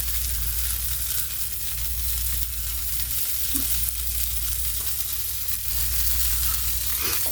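Ham toasting in a hot frying pan, a steady close sizzle and crackle running without break, with a few faint clinks of utensils and no talking.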